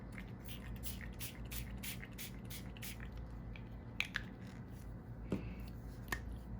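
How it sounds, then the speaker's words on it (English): Gloss spray hisses over a stencil in short repeated bursts, fairly quiet, with a few small clicks and taps near the end. "This is the gloss spray."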